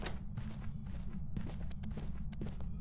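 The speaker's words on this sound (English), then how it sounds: "Now that ghost sounds relatively normal speed to me. Listening to its footstep sounds." Ghost footsteps thud steadily during a hunt in the horror game Phasmophobia, a muffled, regular walking rhythm at normal pace over a low droning rumble, fairly quiet and with no speech.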